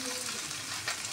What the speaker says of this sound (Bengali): এবার সিদ্ধ করে ভাজতে ভাজতে তার হয়ে যায় একটুখানি